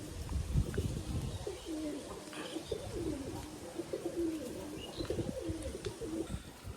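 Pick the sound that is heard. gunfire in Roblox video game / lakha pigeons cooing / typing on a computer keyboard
lakha pigeons cooing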